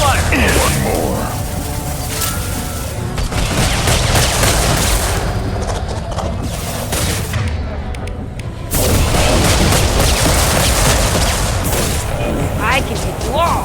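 Heavy gunfire and explosions in the combat game Mass Effect 2: dense, loud bursts of shots and booming blasts that run almost without break, with a short lull midway before the barrage resumes, and voices heard beneath the battle.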